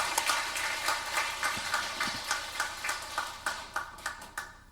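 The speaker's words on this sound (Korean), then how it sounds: "지금 다시 한번 우리 큰 박수를 하나님께 영광의 박수 한번 드리겠습니다." A church congregation claps in praise to God, a steady run of sharp, fairly loud hand claps in a repeating rhythm that grows sparser and thins out toward the end, with no talking over it.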